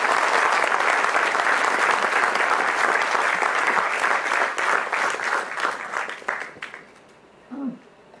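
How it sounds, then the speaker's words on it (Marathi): An audience at a publication launch event applauds the Samutkarsh Diwali issue with loud, sustained clapping that thins out and fades over the last couple of seconds, followed by a brief trailing sound. "जोरदार टाळ्या झाल्या पाहिजेत समुत्कर्षासाठी"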